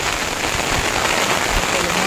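Heavy rain pours down steadily at a dam, a dense continuous hiss with no breaks.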